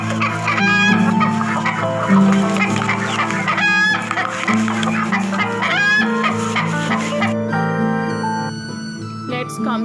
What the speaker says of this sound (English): What is the sound made by a chicken?